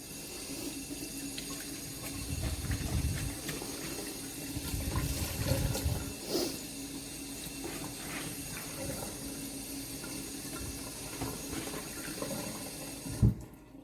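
Tap water runs steadily into a kitchen sink as a cleaning cloth is rinsed beneath it, a continuous close splashing hiss with brief louder surges and a sharp knock near the end.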